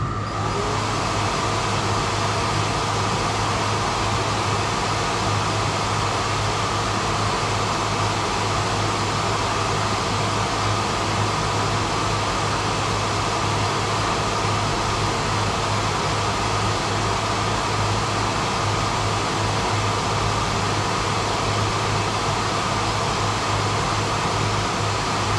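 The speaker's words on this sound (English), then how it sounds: "once it moves over to do the second one, I'm gonna turn the air assist on." An XTool laser engraver works with its air assist pump switched on, giving a steady, loud, unbroken hiss and hum with a low mechanical drone throughout.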